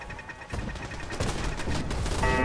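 Gunfire in a Fallout video game, a rapid, moderately distant stream of shots rattling over game ambience, growing slightly louder toward the end.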